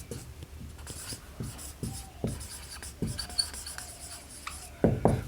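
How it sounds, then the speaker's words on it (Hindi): Pen or pencil writing on paper during a maths lesson on real-number operations, with scattered short scratchy strokes and taps close by, fairly quiet, with no talk. "लाओ लिख दूँ पहले।"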